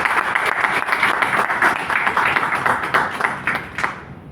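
Audience applause for a launch support team member at a presentation, dense steady clapping from a room of people that tapers off near the end.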